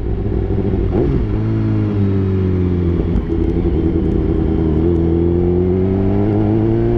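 A BMW S1000RR sport motorcycle with a quickshifter is ridden at speed. The engine and exhaust drone loudly and continuously, rising and falling in pitch as the throttle changes.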